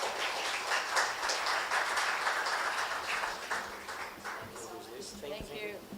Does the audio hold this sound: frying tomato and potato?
no